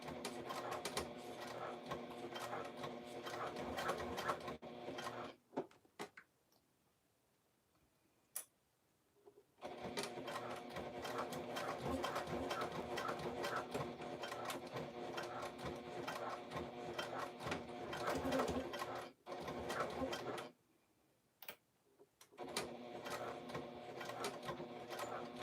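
Sewing machine stitching a custom Pocket Pal, a steady loud mechanical whirr in long runs broken by short pauses, close and alone with no talk.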